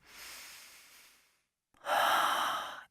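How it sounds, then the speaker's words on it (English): A slow deep breath taken close to the mic: a soft, fading inhale, a brief pause, then a louder, rushing breath of air. "we take a deep breath"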